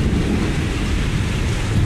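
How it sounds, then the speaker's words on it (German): Heavy rain pours steadily during a thunderstorm in Mobile, Alabama, a loud, dense, unbroken wash of noise with low rumbling underneath and no voices. "Es hat gerade angefangen zu regnen."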